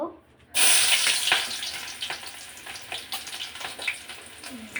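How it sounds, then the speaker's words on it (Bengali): Chopped onion drops into hot oil and bursts into a loud, steady sizzle after a brief quiet start, with occasional clicks of stirring over the frying, close by. "এই তো আমার তেলটা গরম হয়ে গেছে এখন আমি পেঁয়াজ কুচি দিয়ে দিব"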